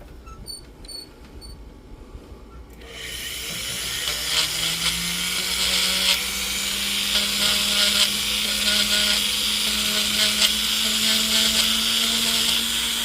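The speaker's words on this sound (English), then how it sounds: "Go ahead and smooth the inside of the ring out with our silicone wheel." A rotary silicone wheel spins up and smooths the inside of a gold ring being sized, a steady high whine with a rising drill-like pitch that holds after a quiet start, close and continuous.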